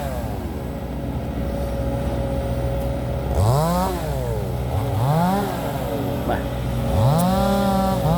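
Diesel engine of a Sumitomo SH130-6 excavator digging a small pond, droning steadily and then revving up in three strong rising swells under the hydraulic load, with someone talking over it.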